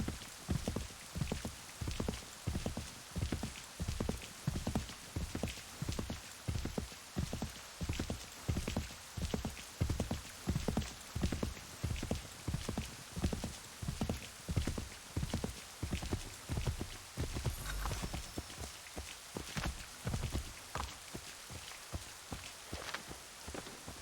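Horse hooves while riding in Assassin's Creed III, a steady clip-clop gait of evenly spaced, fairly close strikes continuing over a soft background hiss like rain.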